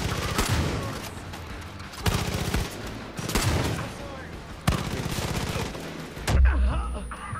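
Gunfire and C4 explosives going off in Far Cry 5, several heavy bursts of shots and blasts crashing close and loud in a rapid, uneven series over a constant rumbling backdrop.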